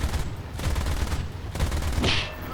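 Aircraft machine guns hammer in rapid bursts during a War Thunder dogfight flown in a Bf 109, with several sustained loud volleys separated by brief pauses and a sharp hiss near the end.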